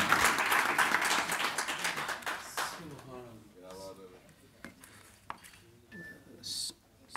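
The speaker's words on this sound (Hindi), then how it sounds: "तालियों में इस्तकबाल करें" An audience at an Urdu mushaira in Qatar claps in welcome for a poet, a dense burst of applause that fades after about three seconds, followed by someone speaking and scattered sounds.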